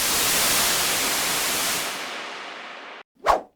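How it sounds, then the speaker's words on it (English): A synthesized white noise riser made in Ableton with a noise oscillator and reverb: a loud, broad hiss that fades out over about three seconds, then a short separate burst of noise after a moment of silence. "enable the noise oscillator and increase the color to the max"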